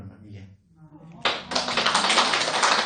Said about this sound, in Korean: 꼭 박수를 쳐줘야 됩니다.